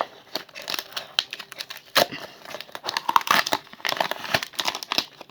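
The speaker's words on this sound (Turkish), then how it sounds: "Öncelikle bu Lost Kids paketini açacağım." A plastic package holding Littlest Pet Shop toys is torn open by hand, giving close, busy crinkling and tearing with sharp rustles and brief pauses.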